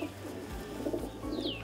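A pigeon held in a person's hand gives a few soft, low coos, close and gentle, with a faint chirp near the end.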